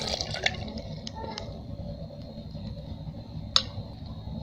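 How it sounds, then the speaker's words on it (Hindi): Cold water, about two glasses, is poured into a container that held cream for making butter, giving a soft splashing trickle with a couple of small clinks, faint and close. "इसमें मैंने तकरीबन 2 गिलास पानी डाला है।"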